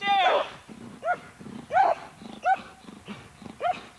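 A police K9 dog at a training seminar barking in sharp, repeated bursts at close range, about six loud barks with short pauses between them.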